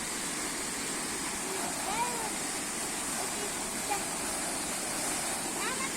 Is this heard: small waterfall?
yes